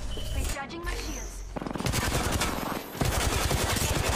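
Weapon fire in an Apex Legends battle royale match, loud rapid automatic bursts with sustained machine-gun rattling that intensifies toward the end, while a player talks over it.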